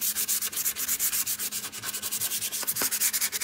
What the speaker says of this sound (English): finish sanding this guy.